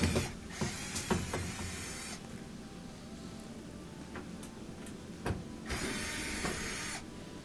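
Screws are worked out of the bottom of a Whirlpool washing machine's front panel, heard as close mechanical ticking and clicking with short bursts of a whirring driver, without any talk.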